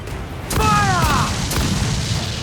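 A single loud ship cannon blast in Assassin's Creed IV Black Flag booms close by with a falling whistling streak, trailed by scattered thuds and steady rumbling naval battle noise.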